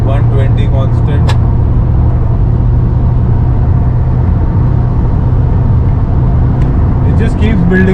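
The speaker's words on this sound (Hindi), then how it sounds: "Let's rev it a little and so you see 120, 3000 RPM, 120 constant." A Honda Accord with a 2.4 i-VTEC engine and automatic transmission cruises at highway speed around 3000 RPM, a loud, constant engine drone and road rumble inside the cabin, with someone talking over it.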